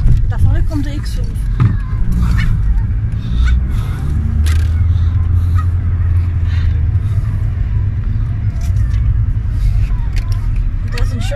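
A BMW X5 drives up near an old palace grounds, its engine rumbling low and building steadily as it comes closer, with people chatting over the approach.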